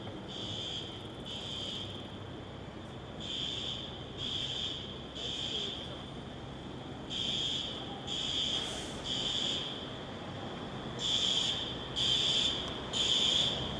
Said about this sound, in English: Why is there a fire alarm going off?